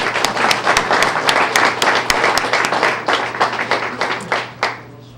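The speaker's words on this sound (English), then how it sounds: "Give you all a round of applause." An audience at a Student of the Month ceremony claps steadily in a dense, continuous round of applause that holds for several seconds, then thins and tapers off toward the end, with no talking over it.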